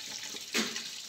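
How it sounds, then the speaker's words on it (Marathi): Fenugreek leaves being rinsed in water in a large vessel at home give a single short, soft splash against a quiet background. "आता 1-2-3 पाण्याने चांगली भाजी स्वच्छ धुवून घेते आणि मगच करते"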